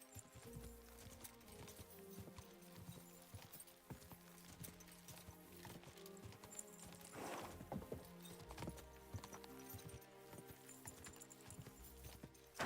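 A horse gallops in Kingdom Come Deliverance 2, its rapid hoofbeats faint and continuous under game music and ambience, with a brief burst of noise midway.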